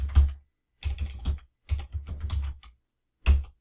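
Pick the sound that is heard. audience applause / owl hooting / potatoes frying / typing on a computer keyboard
typing on a computer keyboard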